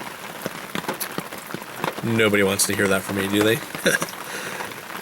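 Heavy rain falls steadily as a broad hiss, with someone talking over it for much of the time.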